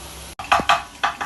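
Sliced onion and garlic fry in oil in a pan, heard close up as a few short, bright sizzling bursts in quick succession with no talking over them.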